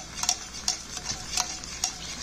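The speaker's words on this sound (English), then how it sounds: "I'm gonna add some black pepper and a good pinch. Boom. Yeah, Steve likes 2 pinches. All right, I'm gonna stir that in." A spoon stirs black pepper into a creamy basil sauce in a pan, giving a steady run of soft scrapes and light clinks against the pan, close and fairly quiet, with a faint sizzle underneath.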